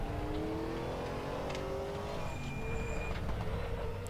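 GTR3 race car engine revving hard, a loud continuous sustained roar with rising and falling pitch as it accelerates and shifts, close and steady throughout with no talk.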